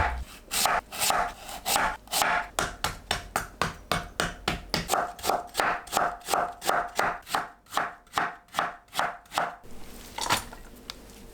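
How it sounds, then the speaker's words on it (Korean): A knife julienning Korean radish (mu) on a cutting board: a fast, even run of crisp chopping strikes, close and loud, slowing slightly before stopping, with no voices. "물을 채 썰어주세요."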